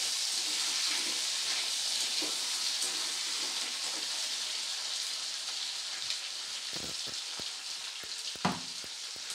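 Chopped tomato goes into a pan of aar fish curry with ground spice paste, and a soft continuous sizzle follows, with a few sharper crackles and spatters toward the end.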